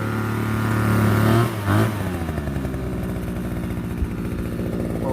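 Small leaf blower engine running after a fan housing assembly replacement, loud and close, a steady buzzing idle with a brief rise in revs near the start, with no talk.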